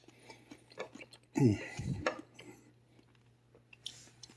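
Someone chews homemade fermented sauerkraut made from two ingredients in a crock, giving a few wet, crunchy bites close to the mic with quiet pauses between them.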